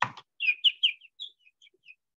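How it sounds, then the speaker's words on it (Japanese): A recorded bird chirp sample plays as a quick series of bright, high-pitched tweets, several close together then tapering to fainter, sparser notes, heard alone in near silence. "チャープというのは鳥の鳴き声という意味ですね。"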